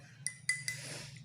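A spoon clinks three times against a glass of water with honey in it, light and close, followed by a soft swirling rattle as the stirring continues.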